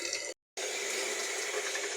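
Water draining from cooked spaghetti, a steady close splashing rush with a brief silent cut.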